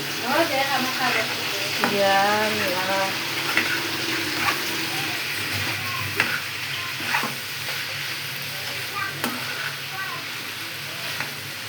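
Potatoes fry with dried fish in a pan, and stirring brings a continuous sizzle with scraping and occasional clinks. A voice speaks briefly near the start.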